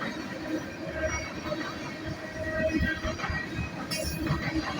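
A northbound CSX ethanol freight train, led by a grey locomotive, rolls past with a steady rumble and clatter of wagons and a brief high wheel squeal near the end.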